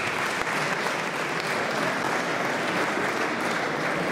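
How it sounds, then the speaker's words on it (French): An audience at the 4th annual dinner of the CCACF applauds warmly, producing a dense, steady wash of clapping from many hands that holds at an even level from start to finish. "On les applaudit chaleureusement, s'il vous plaît."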